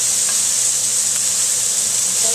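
Pork and onions browning in a pan for pork adobo, a loud continuous close-up sizzle with bright hissing and occasional faint stirring scrapes, no voices.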